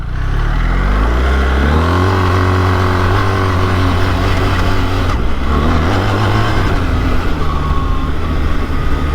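Loud BMW R 1300 GS Trophy motorcycle engine revving up through several rising pitches, dropping briefly as the quick shifter changes gears, then climbing again, close and continuous.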